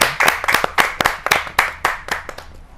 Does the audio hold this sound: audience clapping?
yes